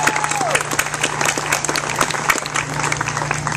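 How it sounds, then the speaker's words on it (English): A crowd at an ALS charity walk applauds the walk co-chairs with steady clapping and a few cheers, while a low steady hum runs underneath. "let's give both of them a big round of applause"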